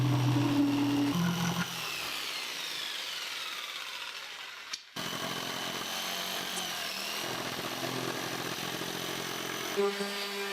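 Jigsaw cutting a Ski-Doo 135L Linq cargo box divider, a steady buzzing saw drone that shifts pitch, pauses briefly midway and continues at moderate level.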